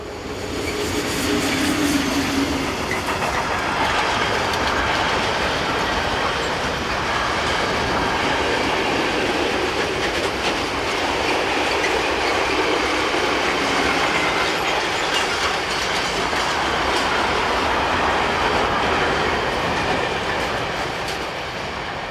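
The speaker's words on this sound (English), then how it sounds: "Here it heads south with this freight from Vienna's Klettering Yard to Graz" A class 1142 electric locomotive hauls a freight train south from Vienna's Kledering Yard toward Graz in the evening, rumbling steadily and loudly throughout with a continuous rolling roar and faint wheel clatter.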